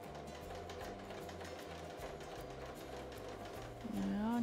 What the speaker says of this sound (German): Jetzt kann ich mit der Nähmaschine oder auch der Ovi einmal komplett außen rum.